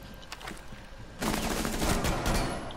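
Gunfire in Rainbow Six Siege bursts in suddenly midway, a dense fusillade of shots that stays loud and sustained to the end after a quieter stretch of game noise.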